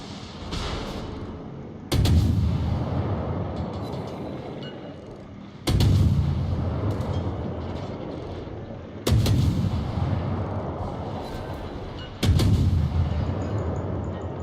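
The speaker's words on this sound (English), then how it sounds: "Oh, he has secondary guns." Ship secondary guns firing in World of Warships, four heavy booming salvos spaced a few seconds apart, each with a long rumbling decay, loud and close with no talk.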